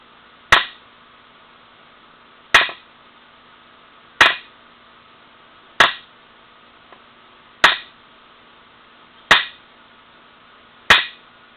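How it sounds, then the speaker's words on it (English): An inertia bullet puller is struck against a wooden surface in seven sharp, loud knocks, spaced evenly about every one and a half to two seconds, each a crisp crack with a short ringing decay, with no voices. "So I'm going to get a series of quick blows on the wood here, and that bullet will fall right out of the brass."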